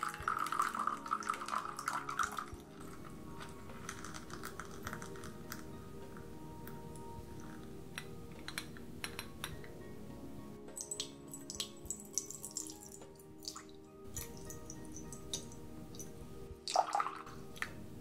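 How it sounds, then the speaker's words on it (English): Water poured into a teacup at a tea party, a steady close trickle with small drips and light clinks, no talking over it. "And here is the water."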